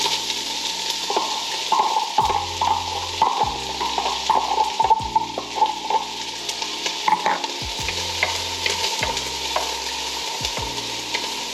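Onions sizzle steadily in a hot pan, with a wooden spoon scraping and stirring them in repeated strokes close by.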